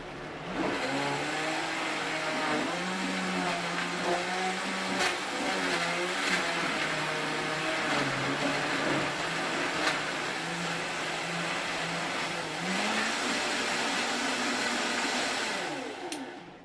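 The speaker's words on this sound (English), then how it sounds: "Let it grind, baby. Now this is why I love the Vitamix." A Vitamix blender runs for a long stretch, grinding juice ingredients with a loud, steady motor roar. Its pitch wavers as the load shifts, and it winds down at the end.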